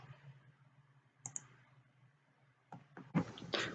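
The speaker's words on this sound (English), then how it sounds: "And click on close." Mouse clicks on a computer as an installer window is closed, a couple of short faint clicks near the start followed by louder clicking and handling noises toward the end, with a low background hum throughout.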